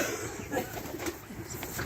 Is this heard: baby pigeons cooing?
yes